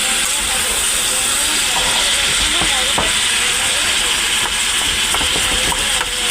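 Onion and snake gourd frying together in a pan, a loud, steady hissing sizzle close up, broken by a few sharp clicks and utensil taps.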